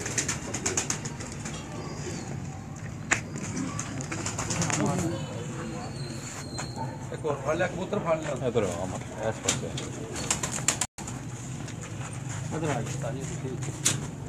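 Soft, low pigeon coos repeat in the background while people talk nearby, with a few faint bird calls and the occasional flutter.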